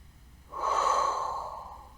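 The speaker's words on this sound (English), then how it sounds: "Deep breathing." One deep breath, drawn in and pushed out through the mouth during an arm circle exercise, rises suddenly and then slowly fades, close and fairly loud.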